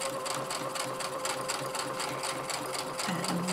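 A sewing machine stitches a quilt seam for a Log Cabin block, running at a fast, even rhythm for the whole stretch, close and steady, with a brief faint voice near the end.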